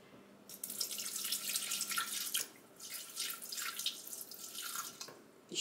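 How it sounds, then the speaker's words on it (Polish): Water poured into a Thermomix TM6 bowl for bread dough, a bright gurgling stream that runs in uneven surges with a short pause midway, close and fairly quiet. "Do tego dajemy 200 g wody."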